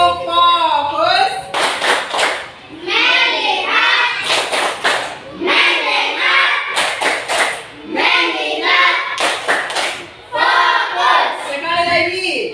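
A primary school class stands and performs the 'tepuk fokus' clapping routine, chanting in unison between bursts of sharp rhythmic claps that come in clusters of several quick hits, with children's voices loud throughout.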